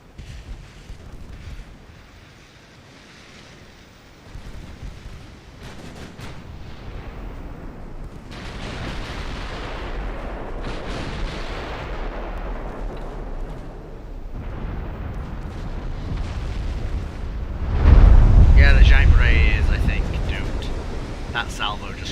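Naval gun salvo in the warship game Ultimate Admiral Dreadnoughts, a deep heavy boom late in the clip rising over steady low battle rumble, with a voice talking intermittently.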